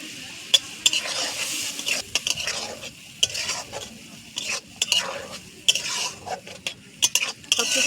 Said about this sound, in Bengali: সব কিছু ভালোভাবে মিশিয়ে নিয়ে 5 মিনিটের মতন পটলটাকে হালকা আঁচে রান্না করে নেব।